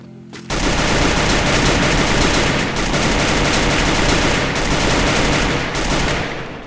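Loud, continuous rapid-fire gunshots in the video game Garena Free Fire blast without pause, dense automatic gunfire filling the whole stretch.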